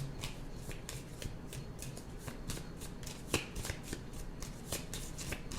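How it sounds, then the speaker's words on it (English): A deck of tarot cards being shuffled up close, with a rapid riffling patter of quick flicks and one sharper snap partway through. "so we got a good shuffle in."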